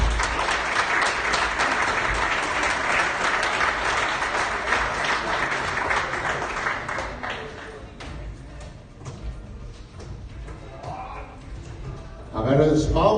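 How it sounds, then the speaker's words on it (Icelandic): Audience applause at a darts tournament, a burst of steady clapping that fades out, followed by a few scattered claps and room noise. "ég vil gefa Mattias í gott klapp fyrir hans störf hérna"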